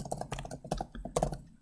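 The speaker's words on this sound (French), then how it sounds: "Je tape mon texte." Typing on a computer keyboard, a quick run of close, crisp key clicks with uneven rhythm over about two seconds, nobody talking.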